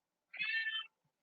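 A cat gives a single short, clear meow, close and alone against silence, heard in a home kitchen.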